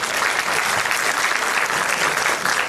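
An audience at a holistic psychotherapy lecture gives a round of applause, continuous dense hand clapping from many people filling the room at an even level throughout.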